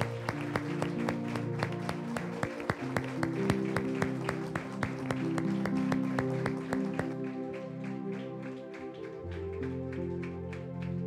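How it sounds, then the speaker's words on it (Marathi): A congregation at a Sunday church service claps loudly in a steady, even rhythm over music, then the clapping stops partway through and the music carries on alone. "एकदा जोरात टाळ्या वाजवूयात"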